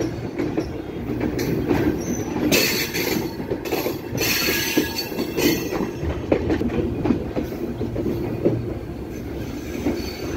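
A train rumbles past up close at Poradaha Junction station, wheels clacking over rail joints with occasional metallic squeals, a loud continuous roar throughout.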